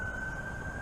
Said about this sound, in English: It's like several sirens going off at once.